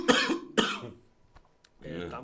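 A man coughs twice in quick succession, close and fairly loud, followed by a brief pause and then the start of speech.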